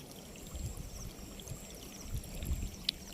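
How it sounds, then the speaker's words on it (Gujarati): Rainwater flowing steadily out after three days of rain, a low continuous rushing and pouring wash with a faint short ticking near the end, heard alone without talk. "ત્રણ દિવસથી પાણી નીકળે છે આ બારું"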